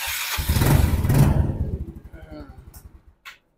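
An old Yamaha Mio motor scooter starting up after sitting unused, a loud close engine burst that catches and then putters down into a fading, uneven idle, with people talking around it.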